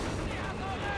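Artillery fire from a Company of Heroes 3 match, a dense continuous rumble of distant shelling and gunfire heard under a game soundtrack with a voice talking over it.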